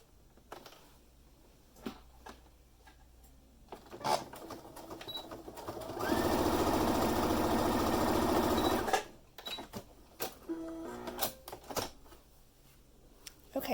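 Sewing machine joining the short ends of a fabric scrunchie with a quarter-inch seam, one steady whirring burst of about three seconds, close and loud, set among quieter handling clicks and rustles.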